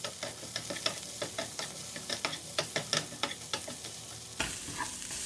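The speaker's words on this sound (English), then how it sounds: "Ooh, it's starting to pop." Turmeric and quinoa sizzle in a pan, with repeated sharp pops and crackles at an uneven rhythm over a steady frying hiss, close up and without speech.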